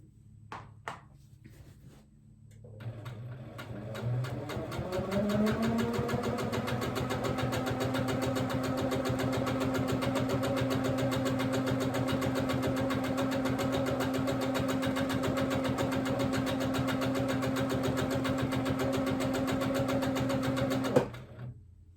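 A sewing machine stitches a quilt of ice-dyed fabric in manual mode. It spins up after a few seconds, then holds a steady, close, continuous whir with a fast stitching rhythm before stopping abruptly.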